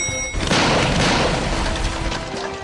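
An egg bursts inside a microwave oven, heard as a sudden loud boom followed by a dense, crashing rumble that stays loud for about two seconds, with no talking.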